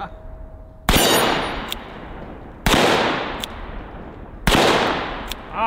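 .357 Magnum single-action revolver fired outdoors, three loud sharp shots at an even pace about two seconds apart, each followed by a ringing decay and a faint metallic ping.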